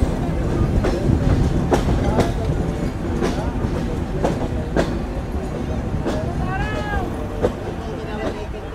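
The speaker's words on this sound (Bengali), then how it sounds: "এখন ডিপারচার নিচ্ছি কোটচাঁদপুর রেলওয়ে স্টেশন থেকে" The Rupsha Express intercity train pulls out of Kotchandpur railway station in Jhenaidah district, Bangladesh, heard from on board as a rumbling carriage with regular clanking wheel beats over the rails and a brief voice near the end.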